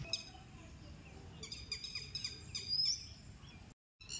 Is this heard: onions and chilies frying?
no